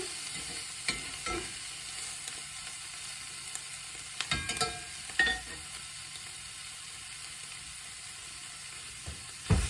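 Canned corned beef sizzles steadily as it browns in a pan, with a few louder stirring scrapes and clinks breaking the quiet frying hiss.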